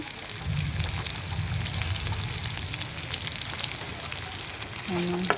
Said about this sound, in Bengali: পেঁয়াজ ভাজিটা হয়ে যাক, তারপর চিংড়ি মাছটা দিয়ে দিব